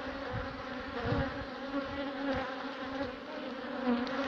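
Honeybees clustering on a frame while building wax comb make a steady, dense buzz that hums continuously at close range throughout.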